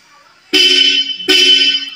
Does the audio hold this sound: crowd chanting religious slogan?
no